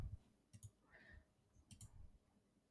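A computer mouse clicking quietly at a desk during software work, sounding as a few sharp clicks in close pairs separated by near-silence.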